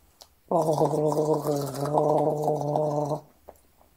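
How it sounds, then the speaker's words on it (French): A person gargles saliva at the back of the throat with the head tilted back, making a single sustained bubbling gurgle of about three seconds that is close and clear, with silence before and after. "reculer dans le fond, reculer la tête, gargariser un peu"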